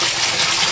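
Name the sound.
water draining from an aquaponics grow bed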